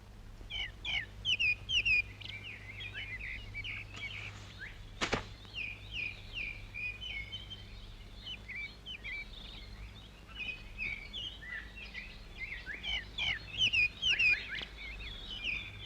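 Birds singing continuously in an outdoor setting, many short chirps and warbling phrases layered together at moderate distance, with a low steady hum beneath and one sharp knock partway through.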